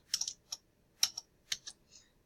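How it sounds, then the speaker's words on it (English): Keystrokes on a computer keyboard while figures are entered into a home equity amortization table, coming in short clustered bursts of crisp clicks separated by brief pauses, fairly quiet and close, with no talking. "typing that information into our amortization"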